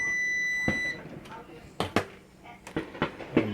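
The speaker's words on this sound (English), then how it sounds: "so it's done. When you hear the beep, and all you gotta do is unplug it." A Hamilton Beach bread machine's high steady electronic finished beep sounds near the start and cuts off after about a second, followed by scattered clatter and handling noises.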